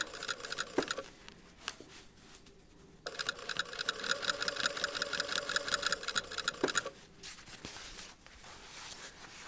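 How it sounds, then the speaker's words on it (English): Sewing machine running in steady bursts while stitching along an earlier stitching line on an exposed zipper pocket, with a short pause before a long continuous run and a quieter stop near the end. "now I'm going to stitch in that previous stitching line as close as I can"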